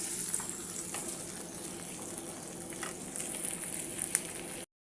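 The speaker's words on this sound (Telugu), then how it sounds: "టమోటా అంతా బాగా మగ్గేంత వరకు ఉడికించుకోండి" Tomatoes cooking in a pan for cauliflower curry, a soft steady sizzle with faint bubbling and occasional small pops, close and continuous until it cuts off abruptly, with no talk.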